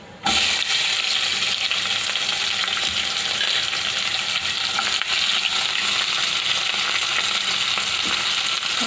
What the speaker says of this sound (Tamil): இது பொரிஞ்சோன்னே இப்போ நம்ம வெங்காயம் போட்டு வதக்கிக்கலாம்.